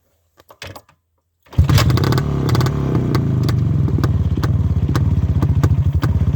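A Russian-made motorcycle engine gives a few faint clicks, then fires up and settles into a loud, close, rapidly pulsing idle.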